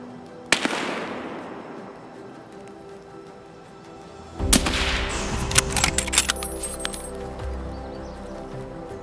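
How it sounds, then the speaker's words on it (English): A sharp sniper rifle shot cracks out early in Escape from Tarkov, fading into a long tail, followed seconds later by a louder burst of impacts and clinking rattles. "wait for the perfect shot, and there we go. Third sniper headshot in the books."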